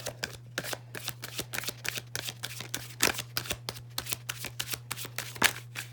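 A deck of tarot cards is riffled and shuffled up close in a quiet room, making rapid, soft, papery flutters in quick bursts over a faint steady hum, with no voices.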